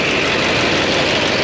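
A 2008 Sierra Silverado 6.6 Duramax diesel idles close by with a cracked cast-iron exhaust manifold leaking boost, giving a steady, loud, broadband roar and hiss with no speech.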